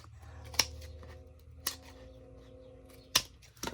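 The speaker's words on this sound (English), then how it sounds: "Trying to cut some of this excess off" Scissors trim excess paper from a handmade journal made from old and new books, three crisp snips spaced apart over a quiet background with faint handling rustle.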